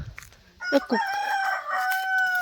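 A rooster on a crop farm lets out one long, drawn-out crow close by after a few soft clucks and rustles, the call holding steady before trailing off.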